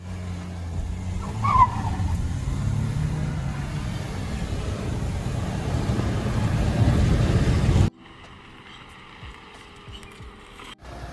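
Mahindra XUV300 petrol and diesel SUVs accelerate hard side by side in a drag race, with loud, steady engine roar and tire noise for about eight seconds before it abruptly cuts out.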